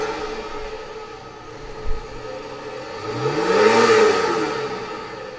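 The engine of a 1983 car idles at a steady hum with a low rumble, then briefly rises in pitch and loudness as it revs and settles back.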